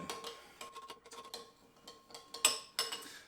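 A spoon stirs pepper jelly glaze and sriracha in a bowl, producing a quick series of light clinks and scrapes against the bowl, irregular and close, with no talking.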